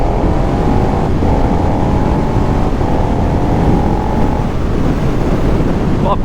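KTM 1290 Super Duke R (2023, V3) ridden on country roads in Vendée, its engine droning steadily and loudly with rising harmonic tones through heavy wind rush, no talk over it.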